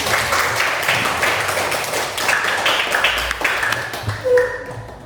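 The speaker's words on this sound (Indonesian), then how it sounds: "kita tepuk tangan" Students clapping hands together in a classroom, a burst of many overlapping claps lasting several seconds at moderate loudness, with faint voices underneath near the end.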